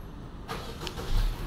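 Car engine starting by remote start, a brief muffled crank and catch heard from nearby outdoors, rising into a low idle rumble after a short click-like burst.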